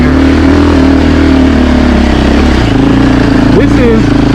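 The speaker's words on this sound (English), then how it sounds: "Feels like you're revving super high and you're going nowhere." A 2024 Husqvarna FE450 dirt bike engine holds a high, steady rev with wavering pitch, loud and close, climbing and dipping briefly near the end while riding over loose, off-camber ground.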